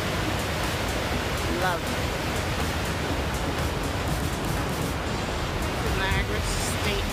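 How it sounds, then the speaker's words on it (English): Rapids on the Niagara River near Niagara Falls State Park rush with a steady, close broadband roar of churning water that continues throughout, while a person speaks over it. "I just wanted to capture some of these rapids"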